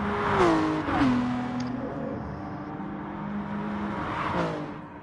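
Aston Martin Vantage race car engine in a Gr.3 racing video game, revving loud and steady with rising and falling pitch sweeps as gears shift, close up and alone without talk.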